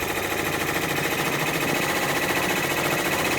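An embroidery machine running a stitch across freestanding lace, a loud, continuous, even mechanical buzz with a fast repetitive needle rhythm and no talking.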